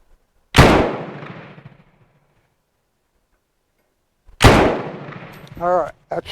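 Two separate loud, close shots from a Bren MK2 machine gun, each with a sharp crack and a ringing tail, spaced a few seconds apart, with a short bit of voice after the second.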